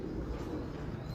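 A three-year-old pigeon in a Lahore loft coos softly in low, throaty murmurs, close by, over a constant background hum with no speech.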